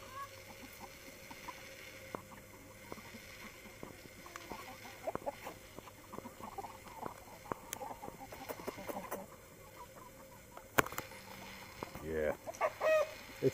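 Chickens being fed give soft, scattered clucks at low volume among rustling and scratching, with a few louder pecks and knocks near the end.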